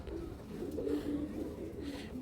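A pigeon coos in a few low, soft rolling notes, fairly close but quiet, against a faint background.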